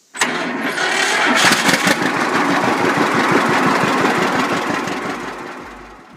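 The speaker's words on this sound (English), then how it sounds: "We're going to turn the ignition on and step on the starter." A farm vehicle engine cranks on its starter and catches, then runs with a steady rapid knocking chug, loud and close, with no talk.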